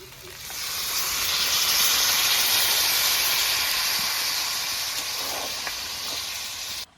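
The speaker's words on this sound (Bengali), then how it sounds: "এঁচোড় আলু মাংস দিয়ে ভালো করে কষিয়ে নিয়েছি, এবার জল দিয়ে দেবো।" Water poured into a frying jackfruit, potato and meat curry sets off a loud, sustained steamy hiss that swells quickly, holds for several seconds and then cuts off sharply.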